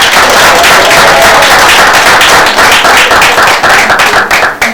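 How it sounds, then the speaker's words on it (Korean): Loud, sustained applause from a conference audience, dense clapping that carries on steadily and begins to thin out at the end. "박수 한번 다 힘내라고."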